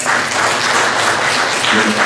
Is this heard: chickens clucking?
no